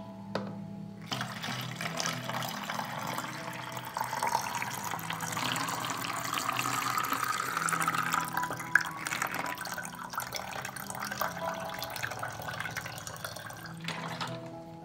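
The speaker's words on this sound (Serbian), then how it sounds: "I sipat ću vodu. Vodu sipajte dok se ne izjednače nivoi u unutrašnjoj i spoljnoj flaši." Water poured through a funnel into a bottle makes a steady, continuous rushing trickle that holds at an even level for about fifteen seconds, close by and with no talking.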